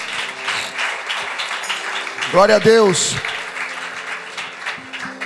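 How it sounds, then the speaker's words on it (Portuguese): Church congregation applauding in praise, a steady wash of clapping beneath a preacher's voice, with a sung or drawn-out vocal phrase rising briefly in the middle. "Dá uma salva de palmas ao Senhor."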